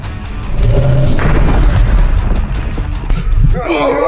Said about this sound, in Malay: Kuat gila bunyi letupan tu.